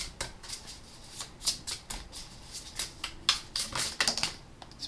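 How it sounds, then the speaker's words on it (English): Playing cards slip and flick against a deck in a series of faint, crisp riffling snaps, a few quick bursts spread over several seconds. "And I'm going to let these 2 cards fall out."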